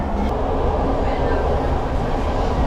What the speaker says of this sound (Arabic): المترو جاي كلاسيك